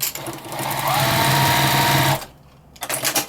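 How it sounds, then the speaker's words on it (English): Sewing machine stitching cotton fabric for a quilted potholder with a small stitch length and quarter-inch seam, a steady loud whirring hum for about two seconds that stops abruptly, then faint handling sounds. "I'm using a small stitch length. My machine has a number 2, and that's the one I'm using."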